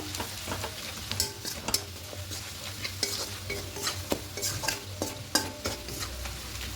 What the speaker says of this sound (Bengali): ধনিয়া গুঁড়ো জিরে গুঁড়ো লঙ্কা গুঁড়ো আর হলুদ গুঁড়ো দিয়ে খুব ভালো করে মিশিয়ে নেব